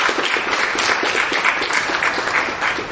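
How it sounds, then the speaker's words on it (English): Audience in a meeting hall applauding developers of a downtown Heritage Pine area project, a dense steady patter of hand claps at moderate volume with no pauses. "I think we need to give a hand clap to the developers for that"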